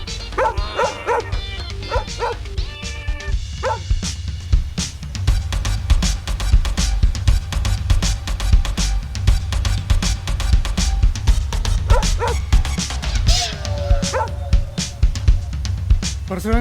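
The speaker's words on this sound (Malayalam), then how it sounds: "ആണ്ട് പോകുന്നു പേപ്പട്ടി." A rabid stray dog barks and yips repeatedly at close range, mixed with music and some voices in a comic scene.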